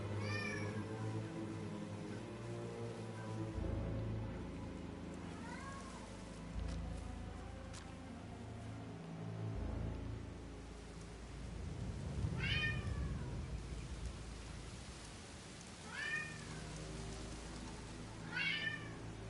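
A cat in Hitman 3 meows several times, short rising cries scattered across the scene, spaced a few seconds apart and heard over low ambient game sound and music.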